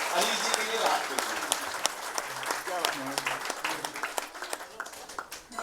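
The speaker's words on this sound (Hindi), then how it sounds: "एक बार सारे मिलकर हाथ खड़े करके सर के लिए तालियां बजाइएगा" Audience at a Hindi poetry gathering breaking into applause, a dense run of clapping that rises at first, then thins and scatters toward the end while voices talk over it.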